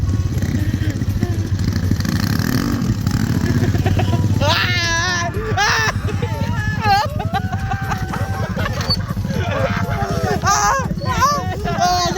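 A 110i motorcycle engine revs hard and loud, its pitch sweeping up and down in repeated bursts over a steady rumble, with people shouting nearby.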